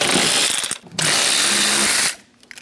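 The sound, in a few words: removing knee bolster nuts with a 10mm socket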